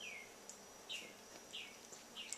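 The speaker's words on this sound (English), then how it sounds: "Do you hear that freaking bird?" Faint, high bird chirps repeat every half second or so against a quiet outdoor background with no talking.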